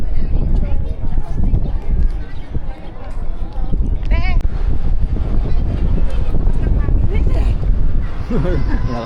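Strong wind buffets the microphone with a constant heavy rumble at Monte Maria while people talk nearby.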